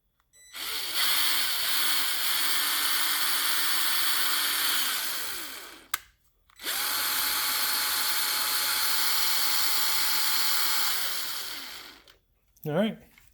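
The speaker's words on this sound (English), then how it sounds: "What if I put it in my drill?" A Milwaukee power drill whirs steadily for about five seconds, stops briefly, then spins up again for another long steady run before cutting off.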